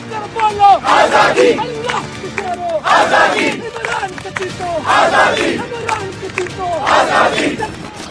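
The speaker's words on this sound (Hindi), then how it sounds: "गेट पर इमरान की रिहाई के लिए धरना, नारेबाजी, हंगामा, गुस्सा" A large protest crowd at the gate of Adiala jail in Rawalpindi chants slogans for Imran Khan's release, loud rhythmic shouted bursts roughly every two seconds with crowd noise carrying between them.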